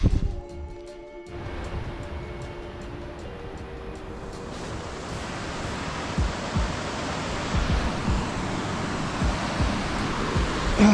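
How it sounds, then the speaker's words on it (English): Fast-running Mineral Creek on a mountain trail near the Gila National Forest, a steady loud rush of water that fills the whole stretch and builds after a quieter first second, with no talk over it. "Mineral Creek, which is this creek right here. It's running fast."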